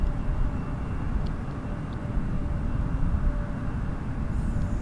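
A Lufthansa airliner at Toronto Pearson Airport at night produces a steady, loud, low jet engine rumble that holds constant throughout, with faint higher whine above it.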